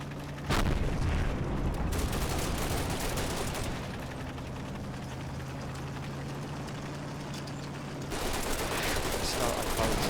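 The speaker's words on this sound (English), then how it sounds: "another German artillery barrage" A German artillery barrage in the WWI-era Combat Mission video game: continuous dense rumbling blasts and crackling gunfire, loud and close, with a heavier burst at the start and again near the end.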